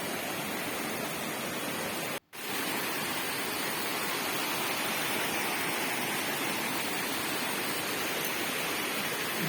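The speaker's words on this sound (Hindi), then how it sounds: "पानी की आवाज़ आपको आ रही है ना" A mountain stream in a Himachal Pradesh hill village rushes in a loud, continuous broadband roar of running water, unbroken except for one very brief dropout, with no voices over it.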